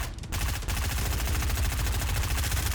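Sustained automatic gunfire in the video game Fortnite, a fast unbroken rattle of shots lasting nearly three seconds, loud and close with no pauses.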